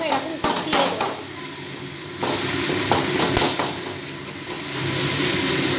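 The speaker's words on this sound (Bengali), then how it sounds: "এবার আমি টমেটো কুচি দিয়ে দেবো" Chopped tomato fries in a pan of Bengali goat mutton curry, a steady near sizzle that swells partway through, punctuated by sharp clinks and scrapes of a spoon against the pot.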